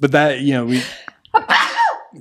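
A single abrupt human sneeze bursts out between stretches of conversational talk, brief and close, with voices continuing on either side of it.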